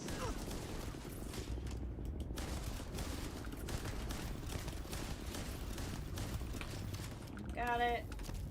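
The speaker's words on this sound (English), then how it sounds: "lot of shooting going on over here" Gunfire in the video game Starfield, with dense scattered shots and mechanical clatter continuing steadily under ongoing noise, fairly near.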